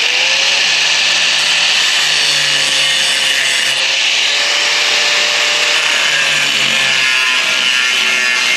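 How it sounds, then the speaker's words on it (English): An angle grinder fitted with a cutoff wheel cuts into a bent steel pallet fork, giving a loud, continuous high-pitched whine with grinding noise that holds steady throughout and has no talking over it. "I'm gonna come in here with the cutoff wheel on the grinder and make myself a little bit of a gap"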